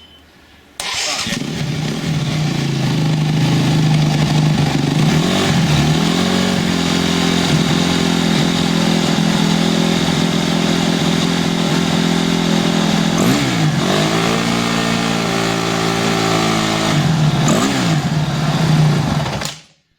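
A 2012 Honda CRF250X dirt bike engine starts and runs at a steady idle, loud and close, with a few brief revs rising and falling before it cuts off abruptly near the end.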